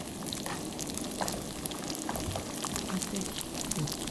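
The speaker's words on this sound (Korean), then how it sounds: "기름을 싹 둘러요. 그런 다음에 노릇노릇하게 구워주면 돼요." A rice paper and cabbage cake fries in oil in a pan, with a constant close bubbling sizzle and small crackles throughout and no talking.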